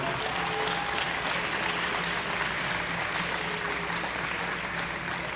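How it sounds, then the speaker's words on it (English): Steady applause from a crowd at a school pep rally for a girls' basketball team, moderately distant and even in level throughout. "they deserve a big round of applause"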